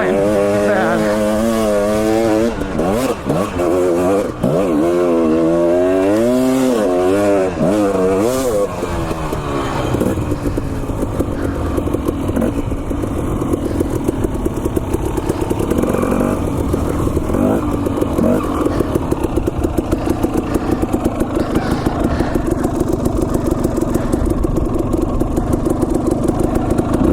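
A dirt bike running on borderline bad gas along a snowy Idaho trail, its engine revving with wavering pitch at first, then settling into a steady, loud drone throughout.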